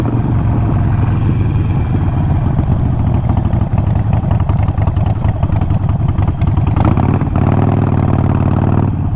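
A 2008 Harley-Davidson motorcycle engine runs loud and close for the whole stretch, a steady rumbling idle with a low throbbing beat and a brief rise in revs near the end, no voices.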